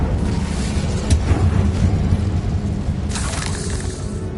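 Incendio fire spell cast in Hogwarts Legacy, a dense roaring whoosh of flame with crackling bursts and a brighter flare near the end, loud and continuous over game ambience.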